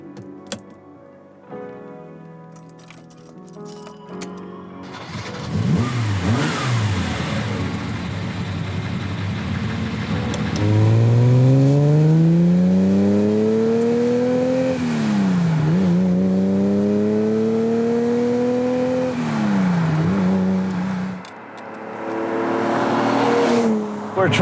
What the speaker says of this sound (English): We're driving a Ferrari Daytona.